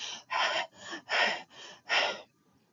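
A voice imitates Kussmaul respirations, the rapid, deep breathing of diabetic ketoacidosis: six heavy, breathy in-and-out gusts in a steady rhythm, close and fairly loud, then a brief silence.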